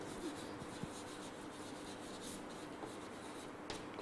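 Chalk or a marker scratches across a classroom board in a few faint strokes, quiet and close, with no talk.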